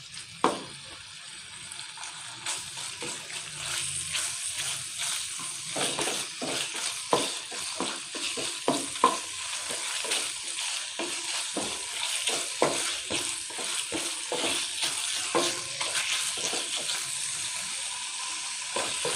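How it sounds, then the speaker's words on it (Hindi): Chicken pieces frying in a pan and stirred until they turn from pink to white, a steady close sizzle broken by repeated scraping clatters of the spoon against the metal, with no voices. "इसको अच्छा सा भून लेते फ्राई कर लेते हैं"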